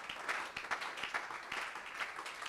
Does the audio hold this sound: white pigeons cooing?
no